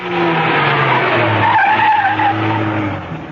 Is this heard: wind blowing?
no